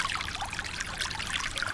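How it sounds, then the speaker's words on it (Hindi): A strong stream of water flowing along a field embankment, a steady bright rushing trickle and splash that stays even and continuous throughout, with no voices. "हर बार पानी की तेज धार उसे बहा देती है"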